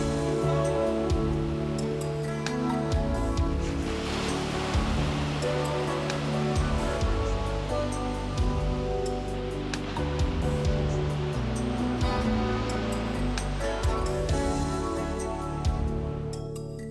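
Ocean surf rolls onto the beach near Nags Head and Oregon Inlet, a steady, loud wash of breaking waves that fills the whole stretch without letting up.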